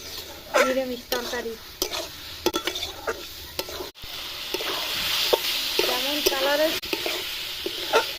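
Potatoes frying in a pan with chili powder, turmeric and salt for a vegetarian aloo dum, a steady sizzle broken by repeated stirring scrapes, with a few voices talking over it.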